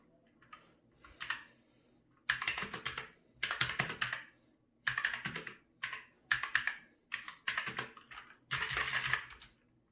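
Typing on an HP GK400F mechanical gaming keyboard: bursts of rapid crisp key clicks come in irregular runs with short pauses, close and clear, with no talking.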